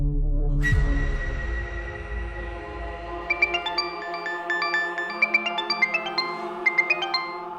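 A mobile phone rings with an incoming call from an unsaved number on a new SIM in a crime drama. After a low rumble fades, a bright repeating melodic ringtone plays clearly for several seconds.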